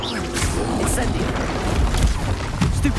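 An Incendio fire spell in Hogwarts Legacy bursts with a dense, roaring whoosh and rumbling booms that keep going, loud and close, over a busy combat background.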